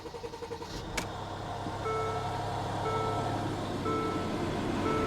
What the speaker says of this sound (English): Engine does not sound very happy